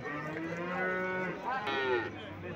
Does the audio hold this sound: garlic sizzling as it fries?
no